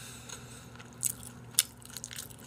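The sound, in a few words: biting crispy Korean sweet and sour pork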